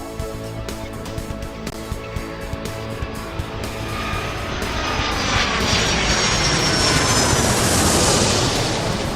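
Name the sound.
jet aircraft taxiing in Airport Madness 3 video game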